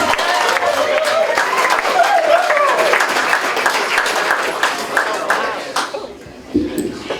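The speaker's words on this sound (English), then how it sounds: "give her a round of applause" An audience applauds a first-time stand-up comedian at a comedy show in Mudgee with dense, lively clapping that gradually thins out and stops, and a voice is heard amid the crowd near the end.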